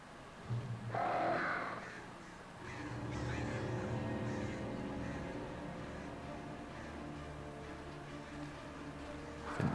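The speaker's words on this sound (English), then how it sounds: "think the birds are angry" Crows in the game Alan Wake caw harshly in a few agitated bursts, fairly close, over a steady low background drone.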